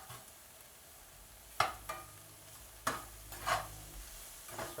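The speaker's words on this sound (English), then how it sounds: "Start to mix it around a little bit" Spinach and corn stirred in a pan, a few scraping knocks of a utensil against the pan over a faint sizzle, quiet and close with no talking.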